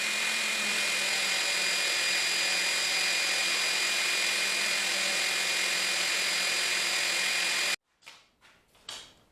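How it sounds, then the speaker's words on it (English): A power sander with 60-grit paper grinds steadily on wood for several seconds, then shuts off, followed by a few short scraping bursts. "let's get back to sanding."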